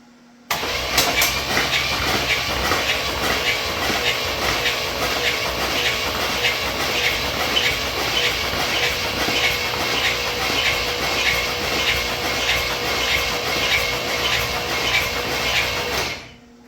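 A barn-find Cadillac engine cranks with a fast, even rhythmic churning for a long stretch and then fires, loud and close, with no voices over it.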